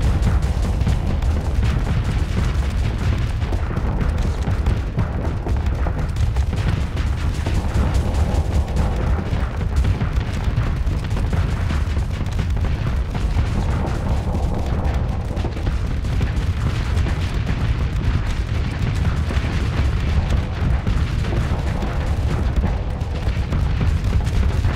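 Ship weapons in the space combat game Starsector, including high-explosive arms, fire in a continuous loud barrage of booms and rumbling blasts that keeps going throughout.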